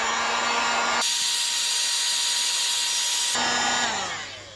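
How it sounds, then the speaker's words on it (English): A heat gun blows on a flattened PVC tube with a loud, steady whirring hiss that shifts in tone for a couple of seconds in the middle, then winds down at the end. "This is a little trickier because you got to use a heat gun on it"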